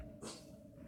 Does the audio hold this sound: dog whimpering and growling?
yes